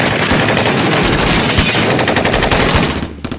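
Rapid gunfire sound effect of officers opening fire on an automobile in a true crime recreation, a loud continuous machine-gun barrage of sharp shots that fades out near the end.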